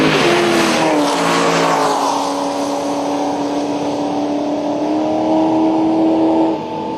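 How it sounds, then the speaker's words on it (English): A Corvette drag racing down the strip at Atlanta Dragway, its engine roaring loudly at a sustained high pitch that slowly fades as the car pulls away, with no talk. "There goes the Corvette."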